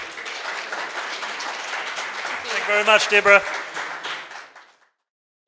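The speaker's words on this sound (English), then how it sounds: "Just give her a round of applause." An audience at an SME town hall meeting applauds steadily for several seconds, a close voice speaking over it before the clapping fades out.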